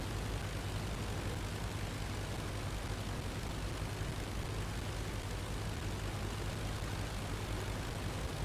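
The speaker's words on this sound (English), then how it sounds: "Is the engine going bad? Listen to it." A damaged Albatros biplane's engine drones steadily and loudly in the Flying Circus flight game, a dense, continuous rough roar with no let-up and no voices over it.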